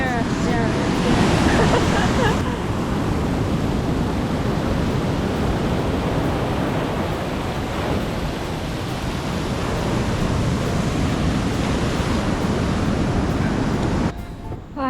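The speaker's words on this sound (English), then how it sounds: "the waves are very strong, so I'm scared" Strong ocean waves pound the New Zealand coast in a continuous loud wash of surf, with a heavier surge near the start and a brief fade at the very end.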